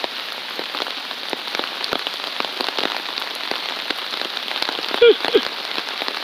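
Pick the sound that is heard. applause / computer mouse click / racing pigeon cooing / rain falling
rain falling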